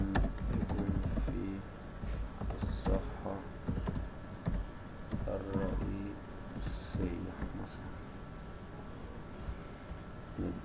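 Keys clatter on a computer keyboard while working in Android Studio, a steady run of quick, uneven taps close by with someone talking over them throughout.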